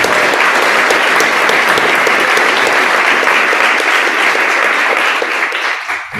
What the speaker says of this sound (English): So let's give Zach a real big warm round of applause